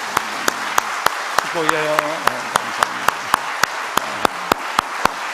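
A church congregation at a prayer meeting claps in a steady, evenly spaced rhythm to bless the young worship musicians, crisp and close, while a voice speaks over it briefly.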